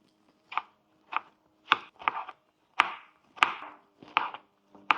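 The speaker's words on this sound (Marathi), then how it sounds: "आपण आता टमाटे बारीक कट करून घेऊ।" A knife finely chops tomatoes on a board, giving about nine crisp, separate cuts at an irregular, unhurried pace, close and clear in a quiet room with no talking.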